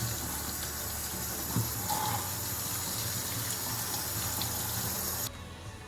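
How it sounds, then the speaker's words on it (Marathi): Fresh mushrooms are rinsed clean of soil under a running kitchen tap, giving a steady close splashing water stream that stops abruptly near the end, with no talking. "या मशरूमवरची सगळी माती काढून घ्यायची आणि एकदम स्वच्छ क्लीन करून घ्यायचे मशरूम."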